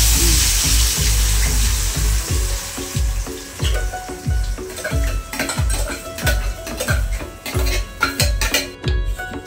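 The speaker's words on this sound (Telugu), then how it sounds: "ఇప్పుడు ఆయిల్లో వేస్తున్నా. ఆయిల్ అయితే మరిగింది." Onion, green chilli and tomato paste hitting hot boiling oil for a prawn and crab curry, a loud steady sizzle with rhythmic spatula scrapes against the pan, close and without talk.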